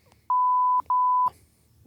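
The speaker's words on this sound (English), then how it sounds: "which was beeped out" Two loud, steady censor beeps, the first about half a second long and the second slightly shorter, separated by a brief gap and bleeping out the name of a club, with quiet room sound before and after.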